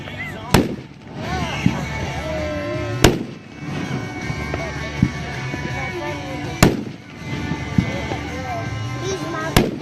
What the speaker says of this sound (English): we're moving on to Mad Ox Fireworks, Grape Glitz.